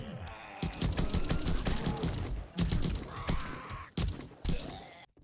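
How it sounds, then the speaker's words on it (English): Gunfire from the player's gun in the 7 Days to Die video game, Undead Legacy mod, rings out as a series of loud sharp shots in irregular bursts over a dense, clattering game soundscape. "Okay, gonna have to use my gun here."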